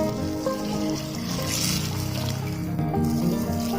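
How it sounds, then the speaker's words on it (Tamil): Tamarind water pours into a clay pot of sizzling fish curry masala, with a steady close splashing hiss and a little bubbling. "புளி தண்ணி ஊற்றிடலாம்."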